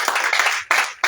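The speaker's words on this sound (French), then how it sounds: "Acclame le Seigneur Jésus." A prayer-meeting congregation claps in acclaim of the Lord Jesus, giving a short burst of close clapping that breaks off and starts again twice in quick succession.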